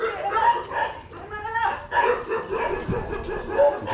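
Ten dogs moved from quarantine into a new shelter in Thailand bark, yip and whimper in short overlapping bursts nearby, with people talking in the background.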